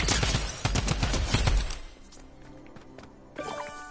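A drum gun in Fortnite fires rapid, loud bursts of gunfire in the first two seconds, then a quieter pause follows before another sharp burst of in-game sound near the end.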